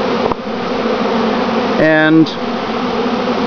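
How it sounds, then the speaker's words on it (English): A steady droning buzz of a honeybee colony being installed into a top bar hive runs throughout, with a brief spoken word near the start and a short tonal whine in the middle. "we're just going to start putting those bees in"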